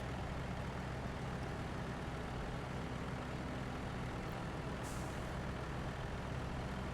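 A Kenworth W990 truck engine in Snowrunner's Scandinavia setting runs with a steady, continuous low rumble, held at an even loudness throughout, with a brief high hiss near the end.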